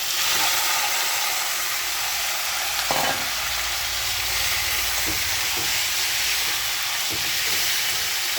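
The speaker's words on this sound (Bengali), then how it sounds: "রসুনটা একটু ভাজা ভাজা হয়ে গেছে, এইবারে আমি লেগ পিসগুলো ঢেলে দিলাম।" Chicken leg pieces sizzling loudly in a pan with fried garlic paste, a steady bright hiss of hot oil broken by a few stirring scrapes and knocks, no talking.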